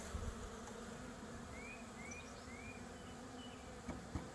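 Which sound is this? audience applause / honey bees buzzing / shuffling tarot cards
honey bees buzzing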